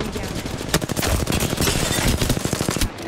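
Rapid automatic gunfire in the battle royale video game Apex Legends, a dense, loud stream of shots that ends abruptly near the end.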